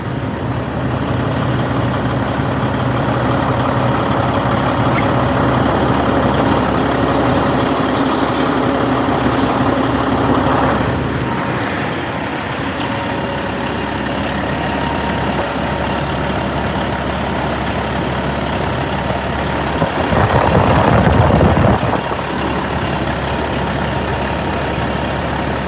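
A single-turbo vehicle engine idles loudly and steadily close by, with a brief swell in rumble partway through.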